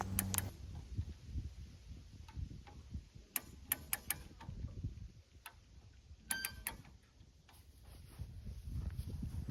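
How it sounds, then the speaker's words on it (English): A ratcheting system on a chain fence stretcher being tightened against T-post paddock fencing, giving sharp metallic clicks in short bursts and scattered single ticks over a low outdoor rumble. "by using this chain, we can pull evenly against the top and the bottom using this ratcheting system"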